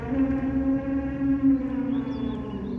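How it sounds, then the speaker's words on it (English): Mama Heffalump trumps out a long, steady elephant-like call from a storybook, a sustained tonal blare with a wavering pitch lasting throughout, moderately loud with no talking. "Mama Heffalump searched for Lumpy. She sniffed some footprints, trumpeted again"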